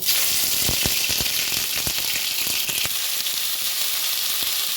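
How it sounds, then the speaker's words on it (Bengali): Broccoli fries in hot mustard oil in a wok with a loud, continuous sizzle, broken by sharp clicks and scrapes of stirring. "প্রথমে আমি ব্রোকলিগুলো একটু হালকা করে ভেজে নেব।"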